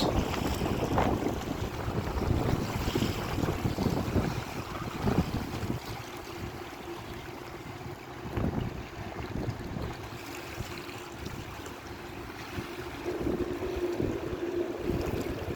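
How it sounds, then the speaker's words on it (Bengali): A strong wind roars continuously at the seashore in Kuwait, buffeting the microphone with low rumbling gusts that rise and fall. Nobody speaks. "প্রচন্ড বাতাস।"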